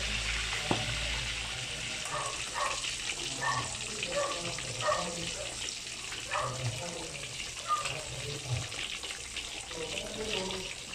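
Lechon kawali pork chunks frying in hot oil, a steady loud sizzle with scattered pops and crackles throughout, while people talk over it.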